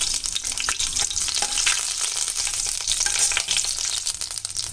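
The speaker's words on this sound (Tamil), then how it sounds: "இதில் நம்ம இந்த நசுக்கி வச்ச பூண்டு போட்டுடலாம். இது நல்லா கொஞ்சம் வறுபடட்டும்." Crushed garlic fries in hot oil with a loud, dense, continuous sizzle, close and steady throughout, no talking.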